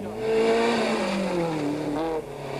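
A front-wheel-drive VW Golf rally car accelerates hard, its engine climbing through revs close by, then dropping sharply as the driver lifts off and shifts before building again.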